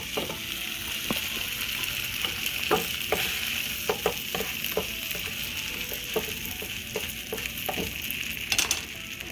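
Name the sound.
buttered tortilla frying in a hot pan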